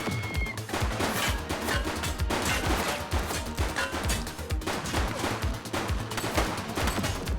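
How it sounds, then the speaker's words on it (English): Sustained gunfire from a shootout in the police game The Precinct, dense bursts of rapid shots and impacts crackling loudly and continuously without pause. "She's shooting."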